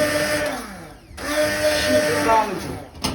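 A blender whirs loudly and continuously, its motor pitch shifting, briefly cutting out near the middle, with voices talking over it.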